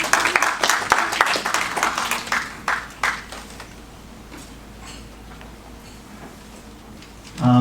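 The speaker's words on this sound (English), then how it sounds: "a round of applause to everyone else for joining along" Conference audience applause bursts out in dense, brisk clapping that thins into scattered claps and fades to quiet after about three seconds, with a murmur of room noise lingering.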